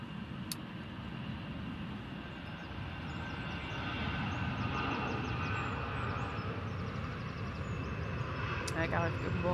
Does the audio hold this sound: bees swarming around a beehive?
no